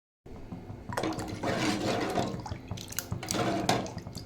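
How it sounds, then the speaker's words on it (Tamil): Water splashes and gurgles into a cooking pot of cauliflower soup in uneven bursts, close by, with brief pauses between pours and no talking. "உங்களுக்கு தேவையான தண்ணி வந்து ஆட் பண்ணிக்கிறேன்."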